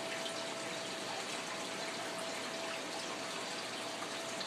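An Aqueon water changer pours water into an aquarium tank, a steady broad hiss and rush of flowing water with a faint constant tone, continuous and close.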